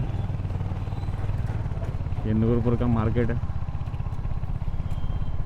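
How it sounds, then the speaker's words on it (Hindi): A Royal Enfield Hunter 350 motorcycle rides through the main market in Nurpur. Its low engine rumble runs steadily under someone talking, and a brief tonal burst rises near the middle. "मेन मार्केट से बाइक निकालेंगे"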